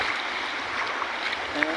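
Floodwater after heavy rain flowing over a road like a river, a steady rushing wash of water heard close and continuous.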